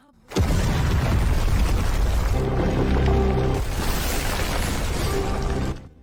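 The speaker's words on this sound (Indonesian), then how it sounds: "bom yang sudah terpasang meledak hebat" A sudden, loud bomb explosion in an Indian action film bursts out and roars on in a dense, rumbling blast for several seconds before cutting off.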